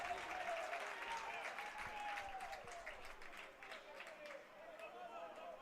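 Crowd at a Hays Larks versus San Diego Stars NBC World Series quarterfinal baseball game reacting to a foul ball, a sustained distant wash of applause and cheering, under a commentator's voice.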